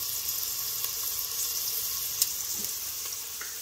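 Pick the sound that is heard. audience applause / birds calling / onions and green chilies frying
onions and green chilies frying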